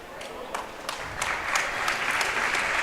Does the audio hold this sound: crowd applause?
yes